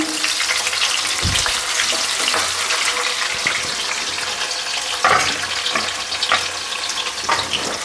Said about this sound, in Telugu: సన్నగా కట్ చేసుకున్న ఒక ఎర్రగడ్డ అయితే వేసుకుందాం